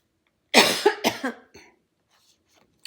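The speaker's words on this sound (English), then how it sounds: "I have a perpetual cough." A sharp burst of coughing, a few quick harsh coughs in a row, close and fairly loud, then quiet.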